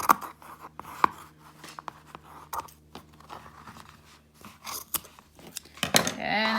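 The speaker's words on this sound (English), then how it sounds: "you're just gonna cut the strings right in the middle" Scissors snip through tapestry warp strings on a loom, a run of short, sharp cuts and crunches at close range, with faint background sound between snips.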